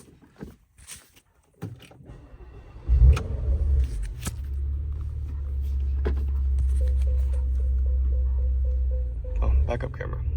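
A 2015 Porsche Macan Turbo starts up after a few door clunks and settles into a steady low engine rumble as it pulls out, with a short series of electronic beeps over the engine near the end.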